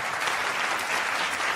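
A studio audience applauds on an Eid special talk show, producing a continuous, dense wash of clapping that runs evenly through the whole short clip with no talk over it.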